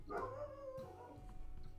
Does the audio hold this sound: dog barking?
yes